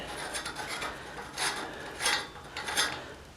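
Metal cap being screwed onto the magazine tube of an Ithaca Model 37 shotgun, quiet close-up scraping and rasping of threads in short repeated turns.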